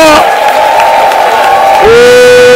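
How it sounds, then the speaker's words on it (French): A church congregation at a prayer gathering erupts in loud, sustained cries of joy and cheering, with a sustained held shout running through most of the moment before another voice rises near the end. "Est-ce que tu peux pousser les cris de joie?"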